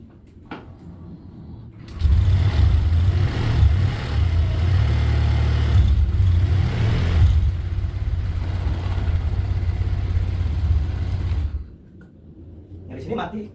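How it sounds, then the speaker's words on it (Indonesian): A motorcycle with a fingerprint ignition and automatic tilt shut-off starts with a click and idles as a steady low rumble for about nine seconds, then cuts out abruptly. "Saya akan coba nyalakan kemudian saya akan miringkan motornya."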